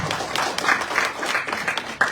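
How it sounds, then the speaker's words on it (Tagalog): Applause from a church congregation, a dense patter of many hands clapping together, fairly loud and steady for a couple of seconds. "Isang malakas na palakpak na po sa ating Diyos."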